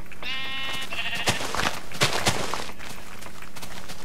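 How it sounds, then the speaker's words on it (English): Sheep bleat in the video game Minecraft. A few clear, loud calls come close together, with light blocky clicks and steps between them and no talking. "Oh, more sheep. Perfect."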